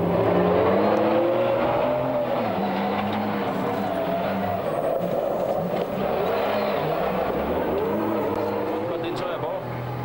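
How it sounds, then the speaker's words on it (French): A 1997 Toyota Castrol rally car drives fast on a stage, its engine droning and revving under steady road and tyre noise while a voice talks over it. "Nous retrouvons Philippe Vanberg 500 mètres dans sa Toyota."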